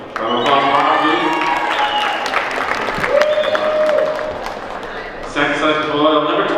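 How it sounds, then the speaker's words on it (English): Loud applause and cheering from a crowd at a basketball tournament, sustained clapping with shouts rising over it, filling the whole stretch. "Round of applause, Mark, please."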